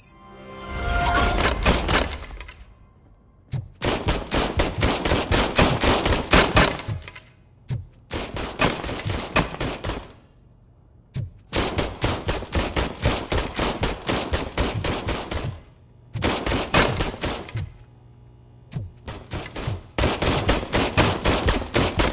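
Bursts of rapid automatic gunfire in the RoboCop: Rogue City shooter, loud sustained volleys separated by short pauses, with impacts and shattering debris.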